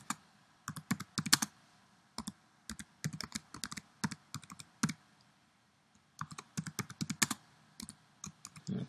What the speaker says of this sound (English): I'm just going to pretend that I'm writing some code.